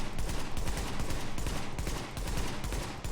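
Assault rifle in The Division video game fired in rapid short bursts, dense loud cracking gunfire repeating throughout.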